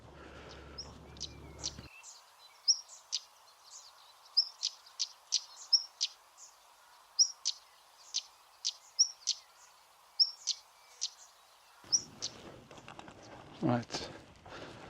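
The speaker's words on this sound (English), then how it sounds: "oh, there's a stone chat" A stonechat calls repeatedly on open heathland, sharp clicking chips spaced about every half second to a second, fairly close and clear over a quiet background, with faint wind noise at the start and end.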